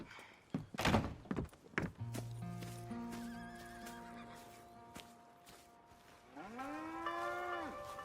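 Farm livestock in the Red Dead Redemption 2 video game: heavy hoof thuds and clip-clop near the start, then sustained low moos and a rising whinny-like call from the animals, fairly close with no talk.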